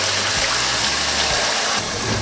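Salted napa cabbage for kimchi being rinsed in water, giving a steady, close rush of running and splashing water with no pauses.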